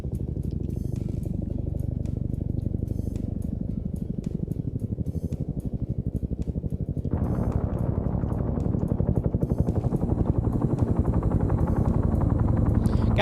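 A helicopter in the military video game Arma, a steady rhythmic rotor thump droning close and loud throughout, swelling brighter midway as it nears, with no talk.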